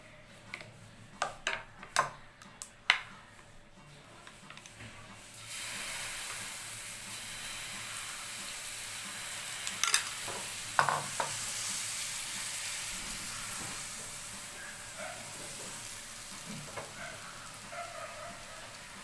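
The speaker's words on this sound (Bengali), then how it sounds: "এবার আমি সঙ্গে সঙ্গে দিয়ে দেব তাওয়ার উপরে ব্যাটারটা" Egg and flour batter hits a hot, ghee-brushed tawa: a few sharp clicks and taps, then a steady, close, continuous sizzle that holds with small bursts and crackles, no voices.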